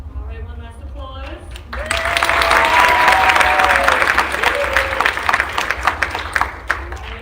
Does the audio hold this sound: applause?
yes